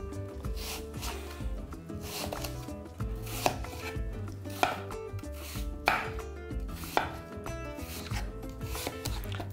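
A knife slices through a tart apple on a cutting board in a home kitchen, making repeated crisp chopping strokes with a steady rhythm and occasional sharper knocks, close and clear, with no talking.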